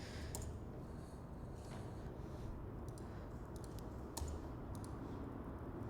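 Computer keyboard being typed on, a few light scattered key clicks in a short burst near the middle, faint and close over a steady background hiss.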